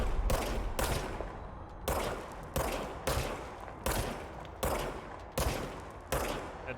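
Gunfire from a gun in a video game comes as about eight loud, sharp shots at an even rhythm roughly once per second, each followed by a short decaying tail.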